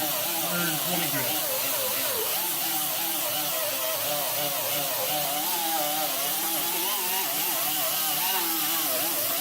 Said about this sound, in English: You can really lean into the tool and get rid of all those fine sanding marks